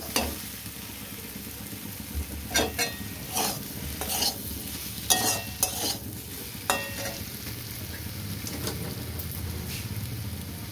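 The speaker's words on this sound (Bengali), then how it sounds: "আলু আর পেঁপেটা দিয়ে দিচ্ছি। দিয়ে এটা মশলার সাথে ভালো করে কষিয়ে নেব।" Potato and papaya chunks are stir-fried with spices in hot oil, giving a low continuous sizzle broken by sharp, irregular scraping strokes of a spatula against the pan.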